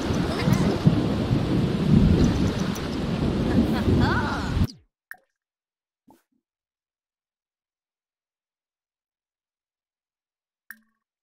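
Thunderstorm with rain in The Sims 4, a dense rumbling downpour with thunder for about four and a half seconds, then cutting off abruptly into near silence broken by a few faint clicks.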